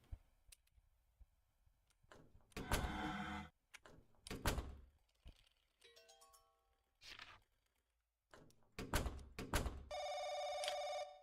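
A telephone rings in the RPG Maker horror game The Crooked Man, a bright electronic ring near the end amid repeated thumps, door slams and clunks, with brief tonal game cues between them.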